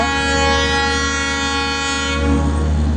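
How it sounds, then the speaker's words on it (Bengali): An express train from Mumbai stands at a station and sounds a long, loud, steady whistle before departing, a continuous harmonic blast holding nearly unbroken for three seconds over low rumble. "ট্রেনটা মুম্বাই থেকে আসলো, এখনই চলে যাবে, হুইসেল দিয়ে দিয়েছে।"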